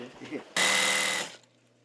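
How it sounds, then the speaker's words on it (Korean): A decades-old sewing machine in a small shop runs in one loud, steady burst of rapid whirring stitching, preceded by brief murmured talk and followed by quiet. "오늘도 동고동락 40년 지기 재봉틀을 지키고 계신 이영호 씨."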